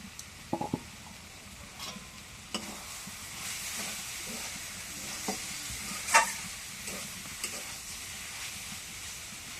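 Vegetables frying in a pan in a home kitchen give off a faint, steady sizzle, broken by a few sharp scraping clicks as they are stirred, with no voices.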